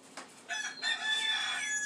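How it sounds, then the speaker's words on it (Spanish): A rooster crows once, loud and close, its drawn-out call building after a brief start and holding steady to the end, with no talk over it. "Ya te cantó el gallo"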